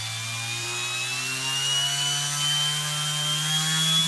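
A propeller on a motor test stand spins up toward 5,000 RPM, a loud buzzing whine with strong tonal harmonics that climb steadily in pitch as the speed rises, heard alone and close.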